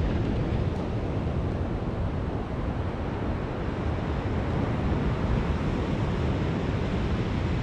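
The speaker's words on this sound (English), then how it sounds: "Look at them waves down there" Sea waves break on a changed beach, surf rolling in at an angle under steady, loud wind buffeting the microphone, continuous with no voices.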